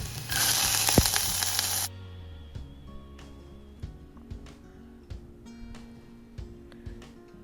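Onions sauté in a pan for a butter beans masala: a loud hissing sizzle for about two seconds, then a quieter stretch with scattered light clicks and taps over faint background music.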